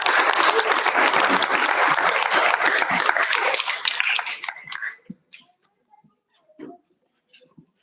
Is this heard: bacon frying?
no